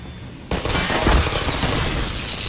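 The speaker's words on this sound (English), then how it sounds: "There's a turret down there." Turret gunfire in the Half-Life 2 video game bursts in suddenly after a quiet moment, becoming a loud, rapid, sustained stream of shots with heavy booms.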